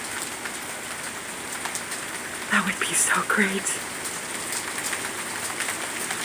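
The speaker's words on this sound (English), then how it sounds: "First hailstorm of the year." Hail and rain patter steadily on surfaces outdoors during the first spring hailstorm, a dense even hiss running throughout while someone speaks briefly and excitedly over it near the middle.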